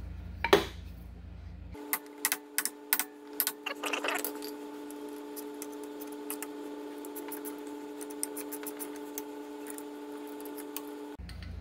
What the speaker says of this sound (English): I want to stop and tap on the housing right on the outside of the bearing there on either side